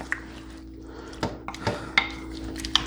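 A large spoon stirs and scrapes against a pot of party snack mixture, giving a few scattered clinks and scrapes over a low steady hum, with no talking.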